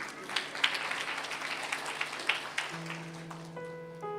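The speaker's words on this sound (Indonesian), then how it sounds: "Kasih tepuk tangan untuk mereka." Audience applause at a church gathering in Australia: a dense, steady patter of many hands clapping, moderately distant, that fades as a sustained organ-like musical chord comes in near the end.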